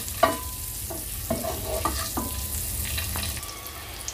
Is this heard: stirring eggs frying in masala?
yes